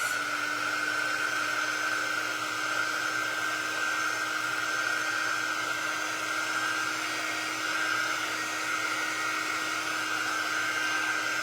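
A hair dryer blows steadily on a Halloween decoration, a loud close whine and rushing air that holds constant throughout without talk.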